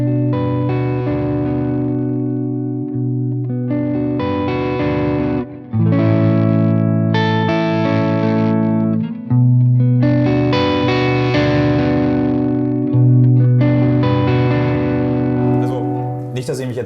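Electric guitar played through a JHS Andy Timmons signature overdrive pedal, giving a loud, continuous, mildly driven tone with sustained chords and melodic phrases over about seventeen seconds, with brief pauses between phrases.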